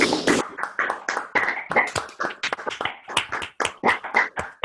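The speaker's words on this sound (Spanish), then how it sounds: "a ver si le podemos dar un aplauso" Audience members applaud over open microphones at the end of an online mathematics seminar, giving scattered, uneven clapping from several sources, some near and some thin and compressed.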